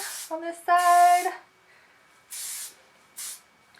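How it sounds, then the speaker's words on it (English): Hairspray from an aerosol can on curly hair comes as short, close, hissing bursts, one long spray and two briefer ones after a pause, with some voiced sounds before them. "spray it"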